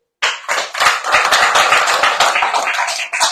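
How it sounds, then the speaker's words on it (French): A radio show audience applauds hard and close, a dense burst of many hands clapping that starts suddenly and keeps a steady, loud roar for about three seconds. "Là, faut reconnaître qu'ils sont applaudis très fort"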